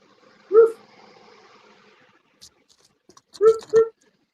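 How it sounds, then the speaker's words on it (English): A pet dog gives two or three short, sharp barks indoors, spaced apart by a quiet pause, with faint small noises in between. "Chance. Well, What are you barking at?"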